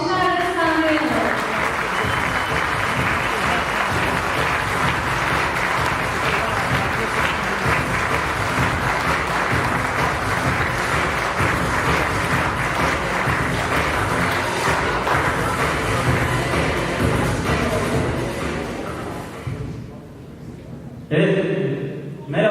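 A theater audience gives loud, dense applause to welcome a band onto the stage, sustained steadily for about twenty seconds before breaking off, followed by a brief voice.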